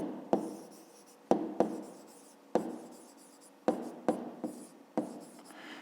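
A pen writes out a fifth-grade maths exercise on divisors, giving a series of short scratchy strokes with sharp taps as it lands on the paper. The strokes come in irregular bursts, close and alone, with no one speaking.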